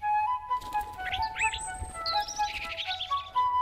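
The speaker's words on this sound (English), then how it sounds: "Bald eagle." A bald eagle calls in a cartoon scene beside a backyard birdhouse, a run of shrill chirping and whistling notes rising and falling over about four seconds, close and fairly loud, with no talking over it.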